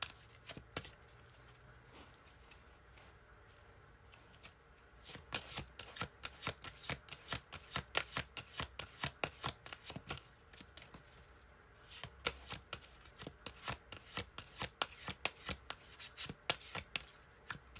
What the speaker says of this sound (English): These are hard to shuffle. They're very stiff.